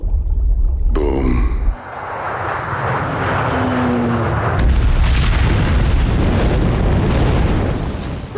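Bomb blast in a film scene: a sudden heavy boom followed by a loud, roaring rumble of debris and wind that stays dense and sustained, with a second surge partway through.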